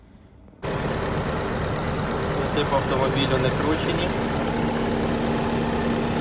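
An Opel Zafira car engine starts up, then idles in a steady, even hum close by while someone talks over it.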